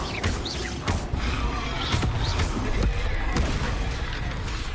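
Bombarda blasting spells cast in Hogwarts Legacy combat, mixed with other spells: several sharp whooshing blasts and bursts at moderate loudness, firing in quick succession over a busy, clattering battle background.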